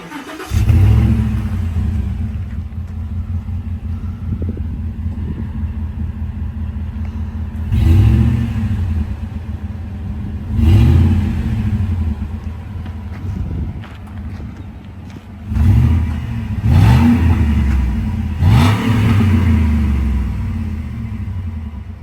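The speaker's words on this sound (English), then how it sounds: "You can hear the supercharger whine pretty good when I revved it a little bit there" A supercharged pickup truck engine cranks and starts, then idles with a deep rumble, surging in several revs with a rising supercharger whine each time, loud and close.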